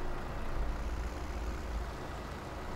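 A tractor engine in Farming Simulator 17 idles with a low, steady rumble that holds evenly for a few seconds, close and alone with no voices over it.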